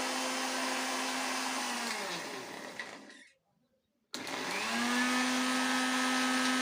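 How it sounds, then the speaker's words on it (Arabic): An electric blender whirs loudly while mixing kiwi and lemon, winds down to a brief silence, then snaps back on to a full steady roar. "في الخلاط الكهربائي ديالنا مزيان، ونزجو مزيان العناصر"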